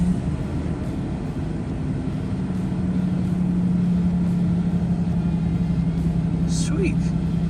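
A 2nd gen Toyota Tacoma engine, just fitted with a new fuel pump, idles steadily with a continuous low hum throughout, with no distinct start-up crank; a brief higher chirp sounds near the end.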